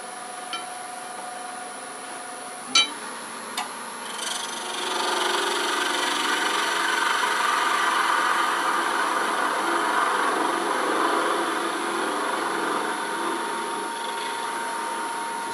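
A wooden acorn box being sanded on a running lathe: after a couple of sharp taps, a steady, broad abrasive hiss rises over the lathe's hum and holds for the rest of the stretch.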